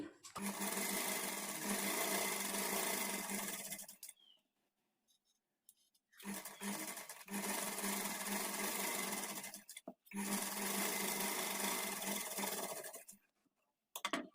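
A sewing machine stitches along the edge of a blouse in three long, steady motor runs with short pauses between them, close and loud.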